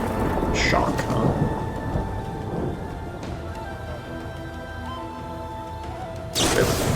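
A thunder effect for the Shock spell in the Magic: The Gathering video game rumbles and crackles like a storm with rain-like hiss, ending in a sharp crash burst.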